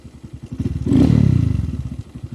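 A Honda Grom small motorcycle engine cranks with rapid chugging pulses, catches and rises briefly in a short rev, then settles into a steady idle.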